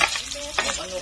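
Garlic fries in a pan for ginisang ampalaya, giving a steady sizzle, with a quick stirring scrape partway through and some faint tonal kitchen noise in the background.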